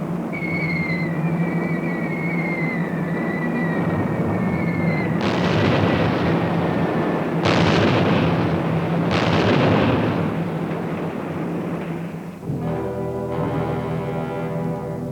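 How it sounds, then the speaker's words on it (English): German Luftwaffe bombing of Spanish cities in 1930s archival newsreel sound: a sequence of heavy booming explosions and rumbling blasts, loud and dense, with whistling tones early on and a layered roar toward the end. "The German Luftwaffe terrorizes the Spanish people by bombing defenseless cities."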